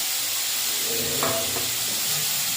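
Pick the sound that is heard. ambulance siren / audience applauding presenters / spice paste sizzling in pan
spice paste sizzling in pan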